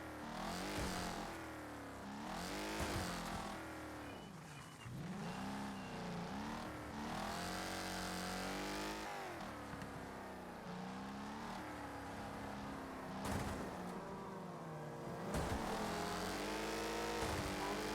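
A racing car in the demolition-derby video game Wreckfest drives and revs hard, its engine pitch climbing and dropping through repeated gear changes in a loud, continuous roar with no break.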